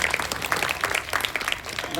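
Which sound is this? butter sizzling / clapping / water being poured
clapping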